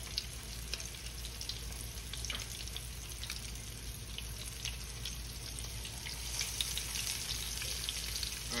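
Floured jumbo lump crab cakes fry in a skillet with a steady, even sizzle and crackle, fairly faint and continuous, with no one talking.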